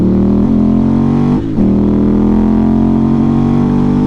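A Ducati Monster motorcycle's engine pulls loudly on a twisty road, a strong steady drone that dips briefly at a gear change and then climbs again in pitch.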